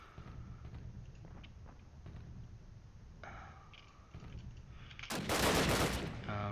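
An MP44 assault rifle in Call of Duty on the mp_tigertown map fires a loud, dense burst near the end of the clip. Quieter game ambience and distant activity come before it.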